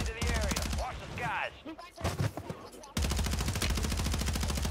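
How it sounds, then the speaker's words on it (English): Rapid SMG fire in the video game Warzone 3, dense automatic bursts that dominate the first half, break into scattered shots and then return as a sustained, loud, steady stream to the end. "Now I gotta use this SMG, take up some of the kills."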